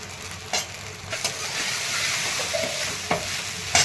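Sabudana and crushed peanut powder stir-fried in a home kitchen pan, giving a steady soft sizzle with a few sharp scraping clicks from stirring, close and alone without talk.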